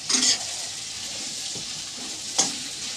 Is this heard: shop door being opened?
no